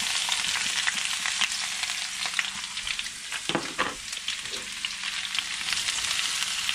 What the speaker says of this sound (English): we're just gonna mix this all up until it's all kind of somewhat mixed up and mingled, and these onions are all separated